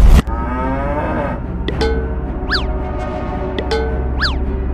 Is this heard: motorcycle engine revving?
no